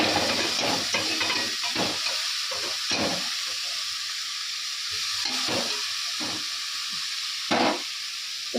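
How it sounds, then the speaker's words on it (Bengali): Eggplant and potato pieces fry with dried red chilies in hot oil, giving a steady, close sizzling hiss broken by short scraping stirs. "তেলের মধ্যে শুকনো লঙ্কা দিয়ে দিয়েছি আর বেগুন আর আলুটা দিয়ে একটু ভাজা ভাজা হয়ে যাবে"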